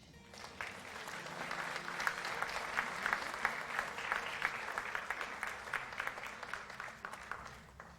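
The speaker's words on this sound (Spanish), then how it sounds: "Un aplauso para el Señor." An audience at a church education conference applauds the Lord after a worship song. The clapping is steady and sustained, somewhat faint and distant, and holds a fairly even level from start to finish.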